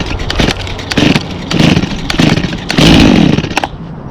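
A chainsaw is pull-started several times in quick succession, each tug giving a loud rasping burst as the engine tries to fire without catching, close by with no talk.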